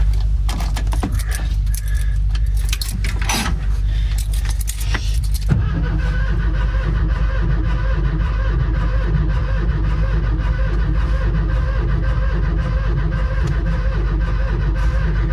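Van engine cranking and catching after fresh gasoline was added, at a rural countryside home in winter: a rattly starter burst gives way to a steady, loud idle that runs continuously to the end.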